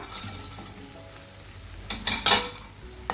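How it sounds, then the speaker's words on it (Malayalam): Prawns that were already fried sizzle in a pan with onions, a steady hiss rising into louder, scraping bursts as they are stirred and tossed. "1 മിനിറ്റ് നന്നായി വഴറ്റിയതിന് ശേഷം അതിലേക്ക് നമ്മൾ പൊരിച്ച് വെച്ചിരിക്കുന്ന ചെമ്മീൻ ചേർത്ത് കൊടുക്കുക."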